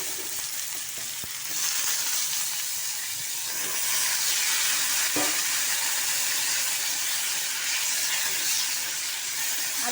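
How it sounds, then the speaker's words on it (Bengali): Potatoes fry in hot oil with panch phoron and chili, giving a loud, continuous sizzle and hiss, with a few clinks and stirring sounds near the start and middle. "দেখো 5 ফোড়ন আর লঙ্কা ফোড়ন দিয়ে আলুগুলো তুলে দেবো পোস্ত করার জন্য"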